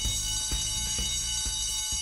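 Continuous alarm bell rings loudly at a robbed jewelry store in the Spider-Man 2 video game, its dense steady ringing overlaid by a regular low pulse about twice per second, with no voices.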